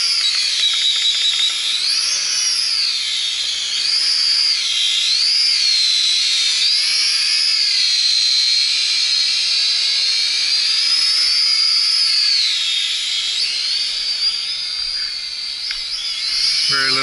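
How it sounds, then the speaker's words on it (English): Xinxun X53 quadcopter camera drone flying at low throttle, its motors giving a steady, close, high-pitched whine that rises and dips slightly in pitch throughout, with no talking. "it's a very smooth, like camera type quad"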